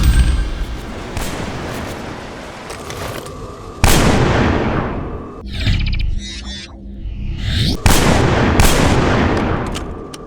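Shotgun sidearm with unlimited ammo blasting in a first-person shooter campaign: three heavy, booming shots spaced a few seconds apart, each with a sharp crack and long decaying tail, plus mechanical reload clicks between blasts.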